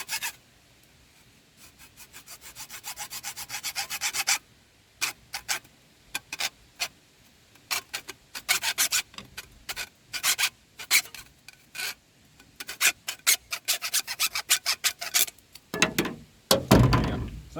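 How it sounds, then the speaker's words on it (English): A pipe being cut by hand to make a shotgun plug, heard as bursts of scraping, rasping saw strokes in uneven runs separated by short pauses, fairly close and quiet, with a couple of heavier knocks near the end. "So I'm going to go ahead and cut it probably 1 inch shorter."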